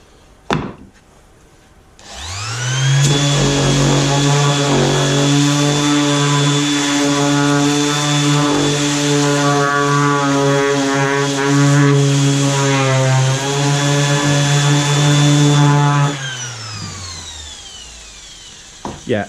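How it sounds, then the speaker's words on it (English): Random orbit sander working small pieces of wooden floorboard, a loud, steady motor whine that spins up after a quiet start, runs for about fourteen seconds without talk, then winds down. "when I try to sand these things individually with a random orbit sander, they're going to dance around all over the place"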